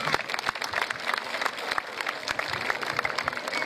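An audience claps at a masquerade ball in Probištip, a busy spread of many hands at moderate distance that keeps going steadily the whole time with some crowd murmur underneath.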